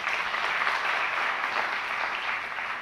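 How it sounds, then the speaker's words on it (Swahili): An audience at an official gathering applauds, a dense, steady wash of clapping from many hands that holds at an even level for a few seconds. "Tuwapigeni makofi jamani."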